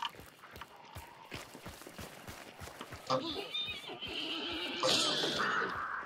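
A horse whinnies loudly in a multiplayer video game, a shaky rising neigh over a steady run of rhythmic hoof or footstep thuds, with voices talking around it.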